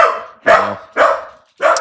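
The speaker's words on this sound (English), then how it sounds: "Sorry, my dog's barking." A dog barks three times in close succession, each bark loud, near and sharp, with brief pauses between them.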